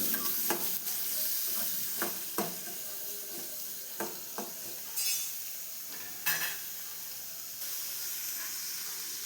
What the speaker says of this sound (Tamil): இப்போ இதை நம்ம நல்லா வதக்கி விடுவோம்.